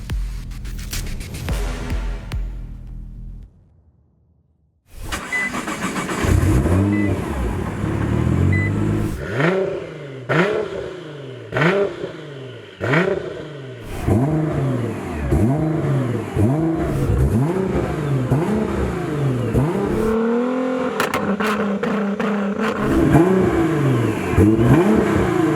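A Nissan GT-R tuned to over 1000 hp idles and blips its throttle, drops briefly quiet, then launches hard. The engine howls loudly up through a rapid series of gear changes, each shift cutting the rising note before it climbs again, with clattering mechanical noise underneath.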